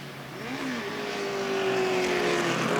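Vintage race cars pass during an SVRA race at Mid-Ohio, with engine notes sweeping up and down as they go by and a sustained roar building gradually louder.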